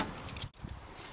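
Keys jangle on the keychain of a 1973 Toyota Land Cruiser FJ40, a short close metallic rattle in two quick bursts split by a brief pause.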